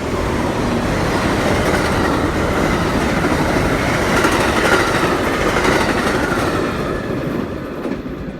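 A train rolls past up close in a loud, continuous rumble with a rhythmic clickety-clack of wheels over rail joints, steady throughout and easing slightly at the end, no talking.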